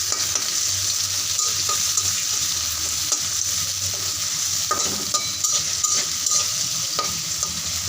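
Flat beans stir-fry with chopped garlic in a pan, a loud continuous sizzle with intermittent scraping and stirring clicks of a spatula throughout, no talking.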